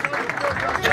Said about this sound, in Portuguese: a salva de palmas para Gil Marques, por favor, galera